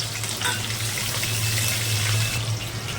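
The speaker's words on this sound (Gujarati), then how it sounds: "હવે એમાં આપણે લીલા મરચાં અને લાલ મરચાં નાખી દેવાના છે બરાબર થોડોક ગરમ મસાલો આખો નાખી દેવાનો છે" Green and red chilies with whole garam masala hitting hot cumin-tempered oil in a pan, a dense continuous sizzle and crackle that holds steady for a few seconds, close and fairly loud with no talking.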